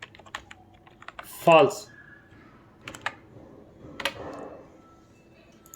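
Typing on a computer keyboard while working in an Excel spreadsheet: scattered quick key clicks with a louder burst near the start, close and fairly clear, with someone speaking briefly over parts of it.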